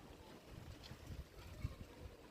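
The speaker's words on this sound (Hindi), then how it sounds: "आज इतनी हवा चल रही है" Wind gusts across a microphone outdoors during a sudden weather change, with light rain beginning, making a faint, continuous low rumble and buffeting throughout, with no voices.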